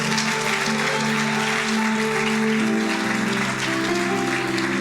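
Church congregation applauding during a Sunday morning worship service, steady dense clapping throughout over sustained musical tones from a band or keyboard.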